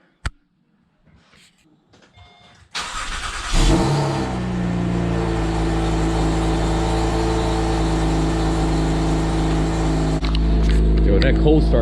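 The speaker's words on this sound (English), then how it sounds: "that cold start though" An Acura TL SH-AWD with a PCD exhaust cold-starts with a loud crank and catch, then settles into a steady, rumbling high idle that fills the rest of the clip.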